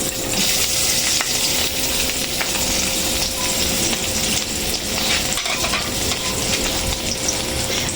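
Eggs frying in oil with a continuous loud crackling sizzle and occasional spatters and light utensil clinks, close up and steady throughout.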